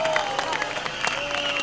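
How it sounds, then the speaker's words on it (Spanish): Crowd applause at an outdoor concert at Expo Peumo, a brief wash of many clapping hands with some cheering, while a voice speaks over it. "aplauso para la despedida en esta primera jornada"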